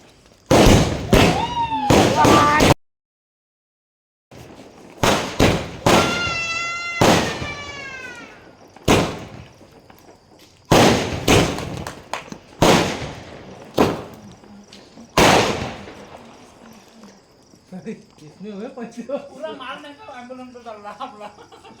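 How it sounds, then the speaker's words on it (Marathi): Several loud firecracker bursts from a box of firecrackers pop in clusters with sharp cracks and whistling rises during Padwa celebrations, while people talk and exclaim between the blasts. "किती होते बॉक्समधले फटाके तर फोडले पण बॉक्ससुद्धा नाही सोडला यांनी"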